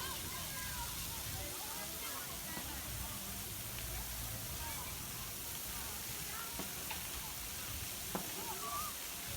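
Water cannons at an amusement park water play area spray and splash continuously, a dense steady hiss of rushing water with occasional faint higher sounds mixed in.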